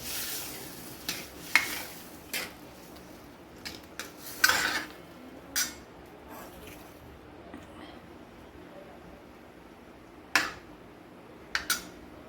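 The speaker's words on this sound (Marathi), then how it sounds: "आणि हिला छान अशी मिक्स करून घ्यायची फोडणी." Toor dal being stirred into a hot tempering in a pan for a drumstick pod bhaji, giving sporadic faint scrapes and clinks of a spoon against the metal over a quiet background.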